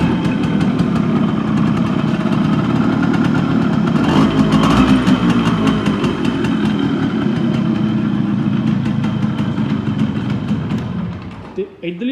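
A Yamaha RX100 motorcycle engine idles loudly and steadily with a low, throbbing rumble, then fades near the end.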